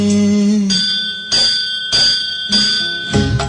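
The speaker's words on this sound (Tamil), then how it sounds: "கோயில் மணி ஒலிக்க" A Ganapathi temple bell rings in repeated bright metallic strokes, about one per second, each with a lingering ringing tone, following a short sustained musical note.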